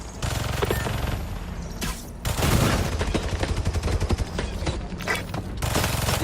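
Rapid turret gunfire rattles in bursts during a Spider-Man 2 mission, loud and close, with short pauses between long automatic strings and mechanical clatter.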